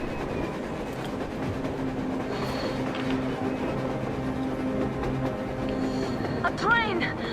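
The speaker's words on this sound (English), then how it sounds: "A train! A damn train on the surface!" A train rolling across the snowy surface in a blizzard in the game Metro Exodus, a continuous low rumble with whining, squealing tones near the end, and voices talking over it.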